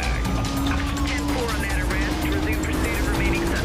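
A Ford Mustang in Need for Speed Rivals, its engine droning steadily and loudly throughout a race, with a rising tonal whine from the car and someone talking over it.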